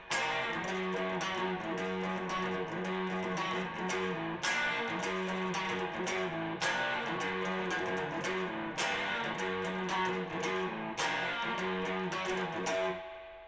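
Distorted electric guitar plays the closing chord section of a rock song, with loud, dense chord hits repeating about every two seconds in a driving pattern.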